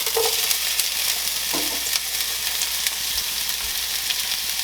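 Chopped broccoli and peppers stir-frying in a pan, a loud continuous hiss of hot oil with occasional stirring scrapes and clatter, close by and without voices.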